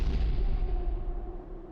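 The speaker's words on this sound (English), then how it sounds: "The torch echoed as it ricocheted down the hole, punctuated with a thunderous thud." In Beacon Pines, a torch falls down a hole and lands with a deep, booming thud that rumbles and fades out over about two seconds.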